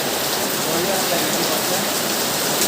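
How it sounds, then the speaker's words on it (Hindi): Rain pours steadily in a dense, continuous hiss during rainy weather, loud and close with no breaks. "वर्षा देखो अलग प्रकार वर्षा"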